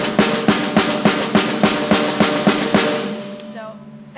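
A drum set plays a steady repeating hemiola pattern of triplet accents in groups of three against the beat, ending with a cymbal wash.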